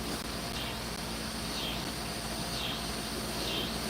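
Cicadas drone in a garden setting, a constant high buzzing chorus that swells in repeated waves about once a second, steady and moderately distant, with no talking.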